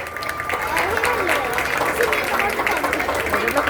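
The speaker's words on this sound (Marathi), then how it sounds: "थोड्या टाळ्या वाजवलं तर सगळ्यांनी छान वाटेल सगळ्यांनाच म्हणजे" An audience at an apartment Ganeshotsav celebration claps in sustained, close applause, with voices speaking and murmuring underneath.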